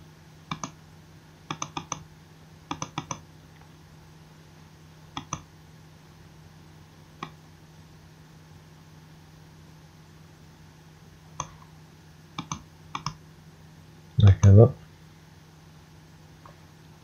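A computer mouse clicks on a website in short, sparse bursts of sharp clicks, often in quick pairs or triplets, spread across a quiet background, followed by one louder rustling burst near the end.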